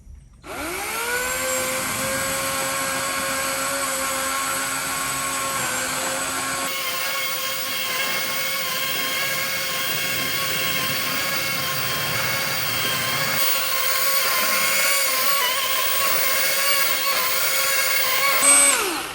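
Continuous high-pitched whine of an 80-volt Kobalt electric chainsaw notching a 3.5-foot-diameter oak tree, running steadily for a long stretch, loud and close, shifting slightly in pitch as it works.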